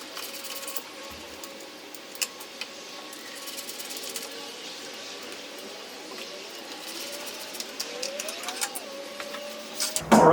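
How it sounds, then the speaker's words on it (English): Screws being removed from a Celestron 8i Special Edition telescope mount, with faint intermittent metallic ticks and small clicks over a quiet background, then a louder clunk at the very end. "So let's go ahead and remove those screws."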